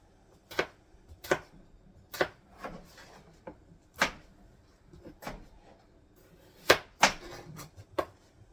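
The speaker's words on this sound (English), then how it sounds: "So we're going to get all those potatoes chopped up." Knife chopping potatoes on a board, about a dozen sharp close thuds at an irregular pace, some in quick pairs, with quiet gaps between.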